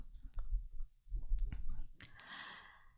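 Keyboard typing of a text prompt, uneven bursts of close, crisp key clicks with brief pauses, ending in a softer rustling tail.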